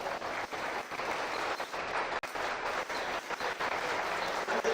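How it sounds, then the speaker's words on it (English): A crowd at a dairy cattle show gives the young exhibitors a sustained round of applause, dense, even clapping with no talk over it. "Let's give all of these exhibitors a round of applause."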